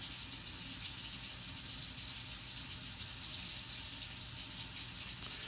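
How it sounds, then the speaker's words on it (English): Water from a kitchen tap runs steadily to fill cups, a soft continuous hiss and splash at low volume with no voices. "let that run for a minute, fill up my 2 cups of water"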